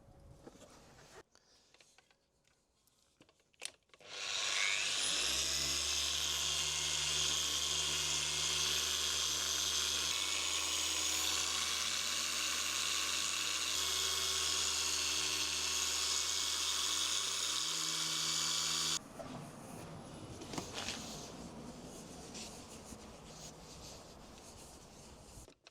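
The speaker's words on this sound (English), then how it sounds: "we're going to hit it with 3000 grit, wet and dry. Try and take some of this haziness out the top" Wet-sanding a hazy, cloudy car headlight lens with 3000-grit wet and dry paper on a cheap Ford Fiesta: a steady, loud rubbing hiss runs continuously for about fifteen seconds, then stops, leaving quieter handling noise.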